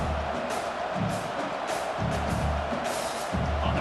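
In the EA Sports College Football 25 video game, a stadium crowd roars for back-to-back sacks, a loud continuous wash of cheering with rhythmic surges and low thumps throughout.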